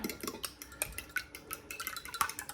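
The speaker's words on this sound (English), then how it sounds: "crack my egg in there, beat it" An egg being beaten into a cup of milk for a homemade cornbread mix, heard as quick, rapid clinks of a utensil against the cup, steady and close with no voices.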